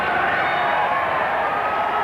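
Crowd at a country football match roars in a continuous, dense wash of cheering and shouting, steady and loud for the whole stretch.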